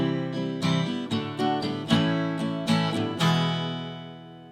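Acoustic guitar strumming the chorus chords of a song, with several close, ringing strums in a steady rhythm. Each chord sustains and rings out, and the playing continues alone without any voice.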